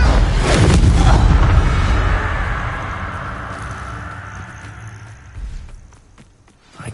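Loud fiery blast from a Confringo spell in Hogwarts Legacy, a booming burst up front that rumbles and slowly fades over several seconds, with a smaller thump near the end.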